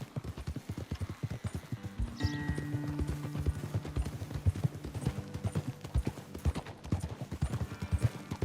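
Steady clip-clop of horse hooves at a walking pace in Red Dead Redemption II, with a brief whinny partway through and a faint low tone underneath.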